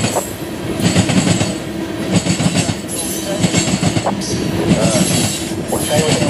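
A CSXT freight train hauled by ES44AH, ES40DC and AC44CW locomotives rushes past close by, its wheels clattering and squealing over the rails in a steady, loud roar throughout.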